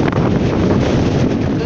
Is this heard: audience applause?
no